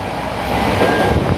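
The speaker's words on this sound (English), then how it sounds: "All right, so my train is here." A train pulls into a station, its steady broadband rumble and rolling rail noise swelling slightly toward the end, heard close and loud with no one speaking.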